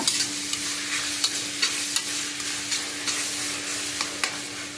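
Masala-coated chilli chicken fries in a pan, giving a steady close sizzle with brief stirring scrapes and clatters at irregular intervals, no voices.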